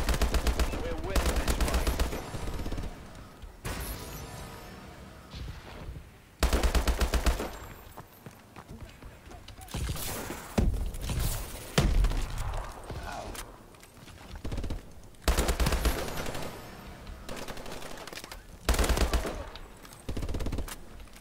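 Rapid bursts of automatic gunfire in a Call of Duty Advanced Warfare multiplayer match tear into metal, loud staccato volleys repeating in clusters with short gaps between them, along with clanking impacts and scattered voices.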